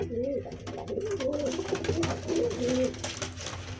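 Pigeons coo in soft, repeated rolling calls close by, several phrases over a steady background of rustling and noise.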